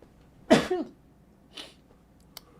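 A single loud sneeze with a sharp intake and burst, followed by a softer sniff or breath and a faint click.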